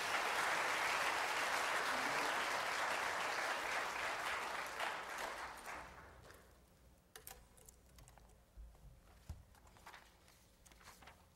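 A church audience applauds loudly for about six seconds to welcome a speaker to the stage at a recovery ministry seminar, then the clapping fades into a quiet room with scattered small knocks.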